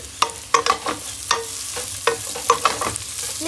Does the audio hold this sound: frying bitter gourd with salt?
yes